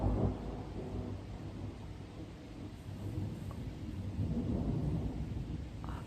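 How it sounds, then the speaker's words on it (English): A thunderstorm rolls on with low, continuous rumbles of thunder under a soft, steady hiss of rain, heard faintly and without voices. "I love thunderstorm."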